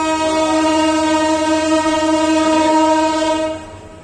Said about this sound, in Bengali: তো 7টার ট্রেন 7:40-এ ছেড়ে গেল রাজশাহী থেকে ঢাকার উদ্দেশ্যে।